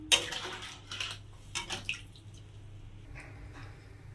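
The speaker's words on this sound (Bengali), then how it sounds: "এবার জল দিয়ে দেবো" Water splashes into a pan of curry with elephant-foot yam and potato, short pours and drips landing near the mic in a few separate bursts over a faint background hum.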